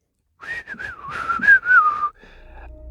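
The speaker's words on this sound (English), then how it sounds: "I started whistling while I worked" A person whistles a short wavering tune up close, about two seconds of melody ending in a brief low rumble.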